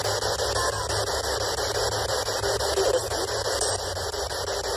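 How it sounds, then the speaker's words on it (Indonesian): SB11 Spirit Box sweeping through radio static during a cemetery investigation, a steady harsh hiss with rapid rhythmic choppy stutters from the scanning, no voices. "kalian udah denger kan tadi suara yang keluar dari Spirit Box"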